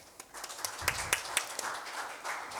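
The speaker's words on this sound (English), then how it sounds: "Please welcome Judge Won with a big round of applause." A seminar audience on court technology gives sparse, scattered clapping to welcome a judge, with a few distinct claps over a soft background.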